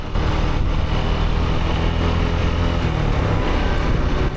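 A loud Suzuki motorcycle engine rumbles steadily and close on a busy Dhaka street, a constant throbbing drone without pause.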